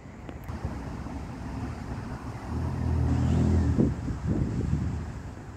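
Near an Australian station, the engine of a failing Doodlebug railcar gives a rough, low rumble that swells and grows heavier midway, heard from a distance under wind noise.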